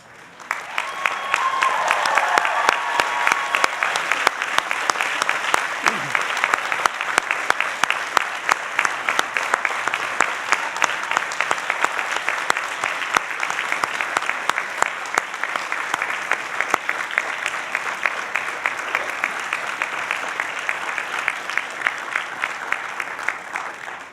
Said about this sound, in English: I would ask all doctoral candidates to rise and applaud those friends and family members who have helped them to be here today.